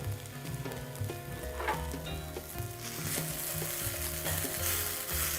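Fried tofu sizzles steadily in a pan as it is scooped into a bowl, with a few soft scrapes and clinks over the constant crackle. The sound is moderately quiet and there is no talk.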